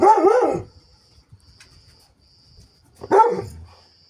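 Dogs, including a puppy, bark and growl during play: a loud bark opens, then quiet shuffling and faint ticking, before a second sharp bark with a whining tail.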